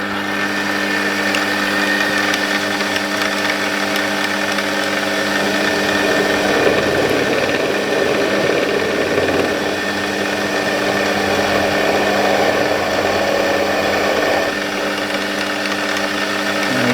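A lathe center drilling into a piece of home cast aluminium with a big center drill held in the tailstock, a steady mechanical whir and hum running evenly throughout with no voices.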